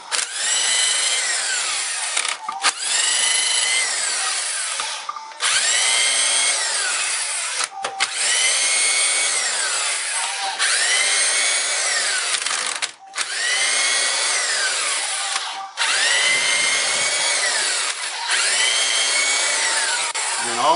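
A power tool removes the cylinder head bolts on a 1999 Chrysler 2.7 engine, running in loud, sustained bursts of a few seconds each with short pauses between, its whine rising and falling close by.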